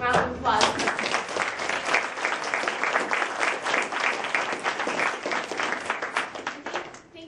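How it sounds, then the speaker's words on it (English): Sustained applause from an audience at a talk event, a thick wash of many clapping hands holding steady for several seconds before tapering off at the end. "So let's give her another round of applause."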